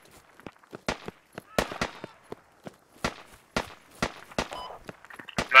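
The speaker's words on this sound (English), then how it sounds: "Oh, I'm taking fire." Scattered gunfire cracks from the video game Squad, fought over a hilltop base, ring out as a dozen or so sharp, irregular shots, some close and loud, others fainter, with short gaps between them.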